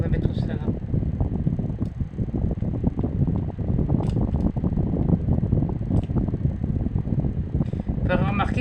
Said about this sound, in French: Ah, c'était mon ventilateur, excusez-moi.